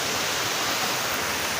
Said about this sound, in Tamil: அப்படியே சூப்பராக தண்ணி வந்து போகுது பாருங்க